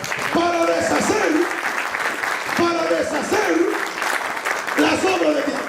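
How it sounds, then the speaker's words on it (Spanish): Steady applause from an audience fills the space while someone speaks loudly over it in bursts. "Dame un aplauso aquí."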